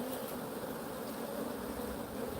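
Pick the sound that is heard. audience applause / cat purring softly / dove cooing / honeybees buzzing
honeybees buzzing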